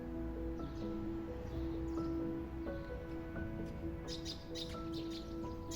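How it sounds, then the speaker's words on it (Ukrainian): Small birds chirp and sing outdoors on a spring day among flowering plants, with a steady outdoor ambience and brief brighter calls toward the end, while someone speaks over them. "Пташки співають."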